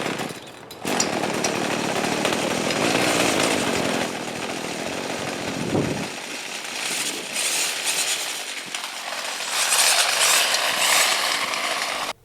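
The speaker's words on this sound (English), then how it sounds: "now I just have to test it and see if it's gonna do the weed whacking." A repaired Craftsman weed wacker's small two-stroke engine runs loud and close, a steady raspy buzz that shifts in pitch partway through, with no voices.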